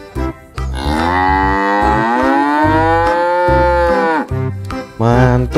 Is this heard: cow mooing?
yes